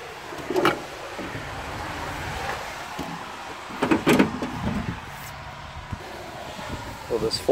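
Spring-assisted entry stairs on a 2019 Flagstaff Superlite 528CKWS ultra-lite fifth-wheel fold down in a few sharp metallic clunks and rattles, spaced apart over a quiet background.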